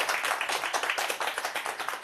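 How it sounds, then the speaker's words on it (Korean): An indoor audience claps in a quick, dense burst of applause for a priest at the close of a talk, steady and close for about two seconds. "네, 신부님께 큰 박수 부탁드립니다"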